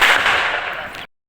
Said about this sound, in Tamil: எங்கள் தாத்தா பட்டாசு விட்டுறாரு